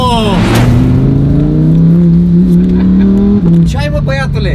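A Lamborghini engine roars loudly as it accelerates at high speed on a wet road, its pitch climbing steadily and then dipping, with people talking over it.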